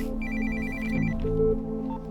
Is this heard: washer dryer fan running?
no